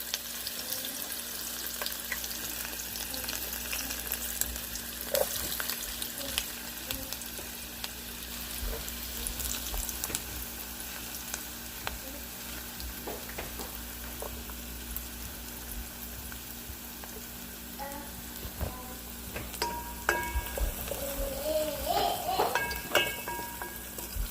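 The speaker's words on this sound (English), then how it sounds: "it looks ready, so I'm gonna put in our onions" Onions frying in hot oil make a steady, moderately loud sizzle that holds for the whole stretch, with some light clatter and brief tonal clinks near the end.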